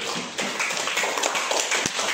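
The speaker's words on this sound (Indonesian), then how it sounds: "Tepuk tangan dulu untuk Chelsea." A burst of clapping from a group, steady and dense, with a few sharper individual claps standing out over about two seconds.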